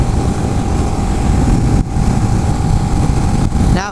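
A 2011 Kawasaki Ninja 650 motorcycle cruises at a steady speed, its engine droning loud and close with a constant tone and wind rush, briefly dipping twice.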